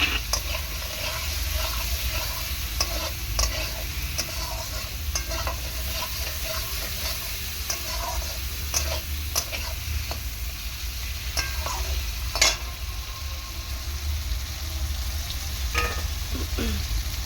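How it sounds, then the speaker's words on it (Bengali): Potatoes stirred and fried in a pan for a bele fish curry with mustard paste and brinjal: a steady loud sizzle layered with frequent spatula scrapes and occasional clinks, uninterrupted and with no voices. "আলু দিয়ে ভালো করে কষিয়ে নেব।"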